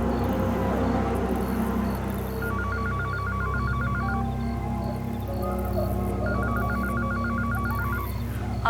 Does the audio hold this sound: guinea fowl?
no